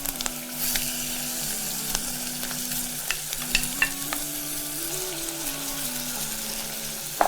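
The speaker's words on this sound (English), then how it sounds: "So you can see I'm browning my beef on both sides." Beef browns in a frying pan for a tomato sauce, making a steady close sizzle with occasional scraping and stirring clatter and a faint background hum, with no talk.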